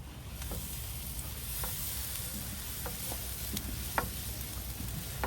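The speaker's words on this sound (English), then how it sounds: "See that sizzle? That's cleaning." Faint, steady sizzling hiss from a wet scrub brush pressed against the hot grate of a Big Green Egg grill, broken by a few sharp crackles and pops.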